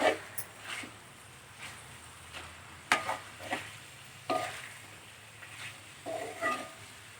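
Chicken masala fries in hot oil with a soft, steady sizzle while a spoon scrapes and stirs the pan in irregular bursts, close and fairly quiet, with no talking.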